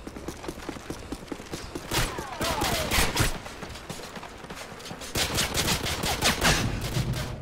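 Rapid gunfire in a first-person video game, bursts of sharp cracks at a quick rhythm with brief pauses between volleys, fairly close and loud, with no clear talk over it.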